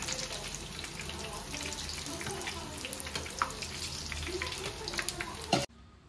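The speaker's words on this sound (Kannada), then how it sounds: "ಎಣ್ಣೆಯಲ್ಲಿ ಬಜ್ಜಿನ ಚೆನ್ನಾಗಿ ಫ್ರೈ ಮಾಡ್ಕೊಳ್ಳಿ" Mirchi bajji, chili pepper fritters, deep frying in hot oil over medium flame, giving a steady dense bubbling sizzle that runs close and continuous until it cuts off abruptly near the end.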